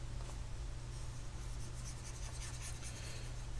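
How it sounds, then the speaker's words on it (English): Steady rubbing of an eraser across a writing board while clearing worked maths, soft and continuous with a low hum underneath. "let me just erase some work"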